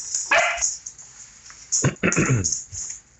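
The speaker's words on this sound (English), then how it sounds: "we were chilling here until Rainey started barking" Puppies bark in sharp, loud bursts: a single bark, then a quick cluster of several, close up, over a thin steady high-pitched background hum.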